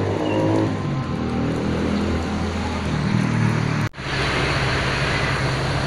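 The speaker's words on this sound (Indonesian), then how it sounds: "Jam 6 lebih 20 menit ini bis-bis sudah mulai dinyalakan ya teman-teman" Bus engines rumble steadily at Kajen bus terminal as the buses are started up in the evening, a loud, dense idle drone with a sharp break partway through, then continuing rougher.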